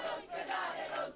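An angry protesting crowd waiting outside the Veneziale hospital shouts in rising and falling surges, heard faintly and at a distance.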